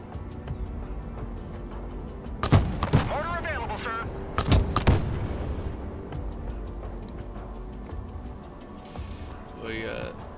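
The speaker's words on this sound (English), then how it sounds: "Some serious explosions." Explosions and gunfire in the video game Broken Arrow: a few sharp, loud blasts and shots break through, with quieter rumbling in between. People talk over the combat throughout.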